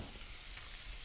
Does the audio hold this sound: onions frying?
yes